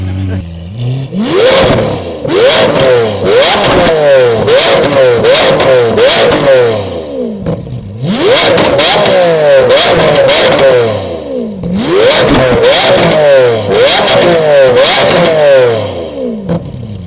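A Lamborghini Aventador engine revs hard in repeated loud bursts, each climbing and dropping in pitch, with brief pauses between three main rev sequences, close and dominant throughout.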